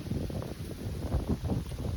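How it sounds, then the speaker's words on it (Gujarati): Wind rushes steadily past the microphone on a farm in low, blustery gusts, rumbling without pause for a couple of seconds. "પવન આવ્યો મસ્ત મસ્ત"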